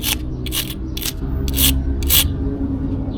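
Rust being rubbed off a VW trike part, five or six rhythmic, evenly spaced abrasive scrubbing strokes, close and fairly loud over a steady background hum.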